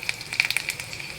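Bay leaves dropped into hot oil for paneer puri sizzle and crackle steadily, with small sharp pops scattered over the continuous hiss, close and moderately loud.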